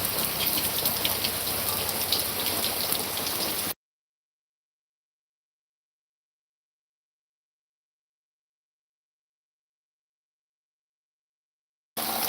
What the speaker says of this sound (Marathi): आता पाऊस पडतो सुंदर